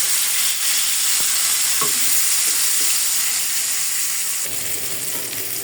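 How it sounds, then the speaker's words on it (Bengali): Koi fish (climbing perch) fry in oil in a pan ahead of a tomato bhuna, a continuous loud sizzle with a few faint scrapes and clinks, no voices. "এই মাছটা আগে ভেজে নিই।"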